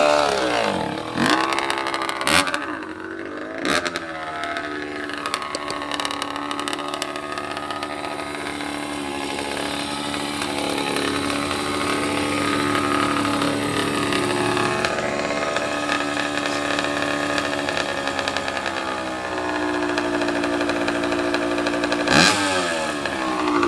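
A 1984 Honda CR60 dirtbike, all original, runs close by with a loud, buzzy two-stroke idle that holds steady for most of the stretch, with a few sharp blips of revving near the start and end.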